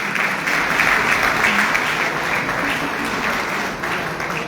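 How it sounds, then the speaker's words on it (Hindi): A crowd at a public welcome gathering for a member of parliament claps in a dense, steady round of applause that stays loud and close throughout. "तालियां बजा करके उनका स्वागत।"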